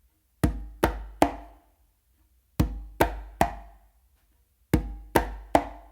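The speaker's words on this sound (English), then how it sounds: "make that bass a little bit more pronounced" A conga tumbao with a more pronounced bass stroke and a palm slap. Crisp, resonant hand hits fall in three rapid groups of three, separated by brief silences.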